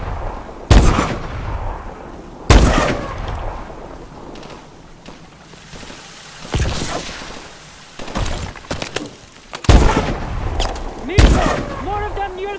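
Loud gunshots and heavy blasts in the Call of Duty: Advanced Warfare video game, several booming reports spaced a second or two apart over rumbling battle noise, with voices shouting in between.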